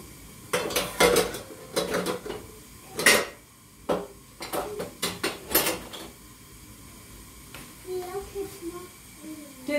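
A cooking pot is handled in a home kitchen, giving a string of sharp metallic clanks and knocks in uneven bursts, close and fairly loud, with a child's faint babbling in the background.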